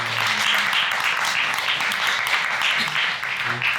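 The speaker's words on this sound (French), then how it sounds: "Je crois qu'on peut l'applaudir." An audience applauds steadily through a panel discussion on digital art and nature, sustained clapping filling the room with faint voices beneath.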